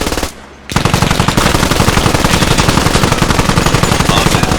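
Turret machine gun fire in a video game, a loud continuous rapid burst that starts after a brief pause and keeps hammering for several seconds.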